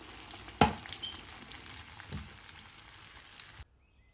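Kerala pumpkin curry with coconut sizzles and fries in a pan, with one sharp stirring clatter early on, a softer scrape later and steady low sizzling that stops abruptly near the end.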